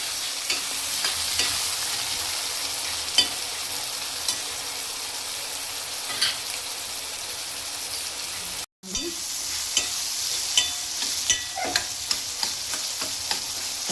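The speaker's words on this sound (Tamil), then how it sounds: "தக்காளி எல்லாம் கொஞ்சம் வதங்கணும்" Tomatoes sautéing with salt in a pan for a small-onion and garlic vatha kuzhambu: a steady, close sizzle with occasional scraping stirs, briefly cutting out for a moment midway.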